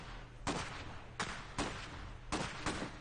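Gunfire in the real-time strategy game Iron Harvest, set in an alternate 1920: five or six sharp, fairly quiet bursts spaced irregularly over a low background hum.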